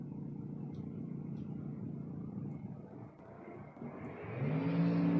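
A drag racing pickup truck engine at a drag strip, a steady mechanical roar that builds into a rising, loud whistling whine with climbing tones near the end, heard alone from a moderate distance.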